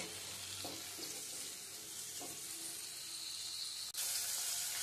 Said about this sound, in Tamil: ஒரு நிமிஷம் ஃப்ரை ஆகட்டும்